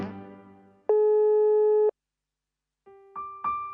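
Telephone call tones, long steady electronic beeps with gaps, close and clear, as a phone call rings out unanswered.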